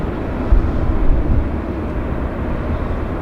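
A Korean Air jetliner rumbles at Vancouver airport, a loud, steady broadband roar with low engine weight and no voices.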